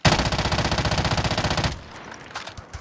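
Rapid automatic gunfire in a Warzone battle royale match, a steady burst of about twenty evenly spaced shots lasting under two seconds, loud and close, then cutting off to quiet game ambience.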